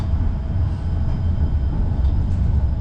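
Tram rolling through the streets of Bratislava, a steady low rumble and rolling drone with a faint thin whine on top, continuous and even, with no voices.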